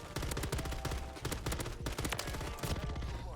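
Rapid bursts of RAM 9 submachine gun fire from Modern Warfare 3, loud and continuous with short breaks between strings of shots, close up throughout with no talking.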